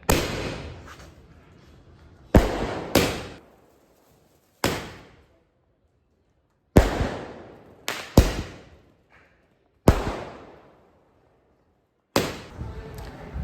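Firecrackers lit with a matchbox burst one after another, about ten sharp, loud bangs at irregular intervals, each with a short decaying tail and quiet gaps between.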